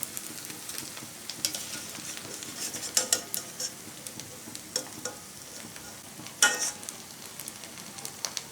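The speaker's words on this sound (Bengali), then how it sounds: "ভাজা প্রায় শেষের দিকে, ভাজা প্রায় শেষ, এখন আমি উঠিয়ে নিচ্ছি।" Potato and semolina snacks frying in hot oil, a continuous close sizzle with bursts of crackling and scattered scrapes and clinks of a utensil against the pan.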